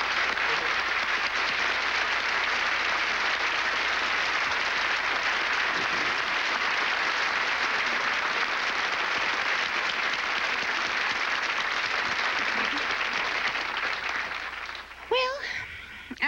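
Loud, sustained applause from a party crowd at an all-star tribute, many hands clapping continuously for about fifteen seconds before it cuts off abruptly, with a brief burst of other sound at the very end.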